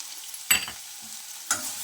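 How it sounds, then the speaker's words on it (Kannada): Coriander seeds fry in a hot pan, heard as two short, sharp bursts of sizzle and stirring rattle separated by a quieter pause, close and fairly loud. "ಚೆನ್ನಾಗಿ ಫ್ರೈ ಮಾಡ್ಕೋಬೇಕು ಇದನ್ನು"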